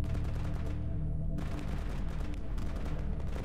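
Dense, continuous gunfire in S.T.A.L.K.E.R. Anomaly, rapid overlapping bursts like a running firefight, loud and sustained throughout without speech.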